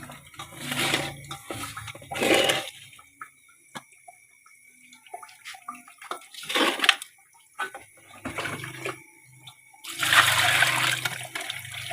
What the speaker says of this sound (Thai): ล้างน้ำเกลือออกเนาะ